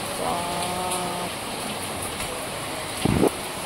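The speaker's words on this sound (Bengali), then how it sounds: "বৃষ্টির আওয়াজটা দেখো, বাপরে পুরো ঝমঝম করে বৃষ্টিটা নামছে" Heavy rain pours down in a steady hiss, with a faint voice-like tone early on and a short knock near the end.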